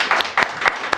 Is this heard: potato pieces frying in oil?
no